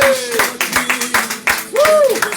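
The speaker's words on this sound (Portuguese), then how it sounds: "E quem pode bater palma para Jesus aí?" Congregation clapping hands in praise at a Brazilian evangelical church service, a run of sharp irregular claps close by, mixed with a loud voice and sung or spoken tones over the top.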